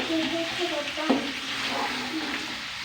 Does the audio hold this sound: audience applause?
no